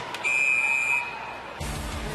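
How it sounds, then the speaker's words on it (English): A referee's whistle blows once in a short, shrill piercing blast at a professional women's ice hockey game, heard over arena crowd noise. "A quick whistle leaves exactly a second to go."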